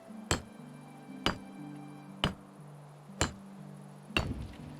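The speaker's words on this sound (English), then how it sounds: "And then we can just hammer, hammer, hammer and do that." Five sharp hammer strikes on stone in Medieval Dynasty, evenly spaced about a second apart, each a crisp ringing knock over a low steady background hum.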